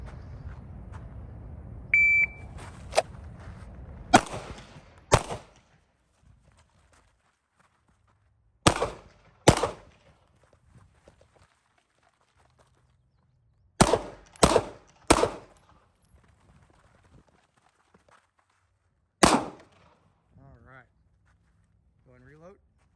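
Sharp, loud gunshots from a shooting competition stage, fired in spaced clusters of two or three shots with quiet gaps between, after a brief start beep; voices talk faintly in the quiet stretches.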